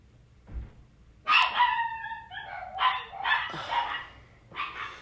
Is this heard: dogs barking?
yes